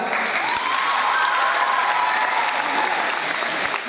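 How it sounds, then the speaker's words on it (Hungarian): A school audience at a student event claps for a pupil named Martin. Dense, even applause runs throughout, moderately loud, with a faint sustained tone drifting beneath it. "Nagy tapsot kérünk Martinnak."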